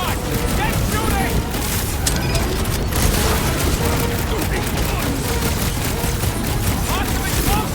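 Gunfire in a Guardians of the Galaxy video game, dense rapid shots and bursts mixed with blasts, loud and continuous, with voices talking over the action.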